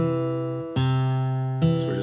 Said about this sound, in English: That's just where we're going to alternate from the 5th string to the 4th string with our thumb.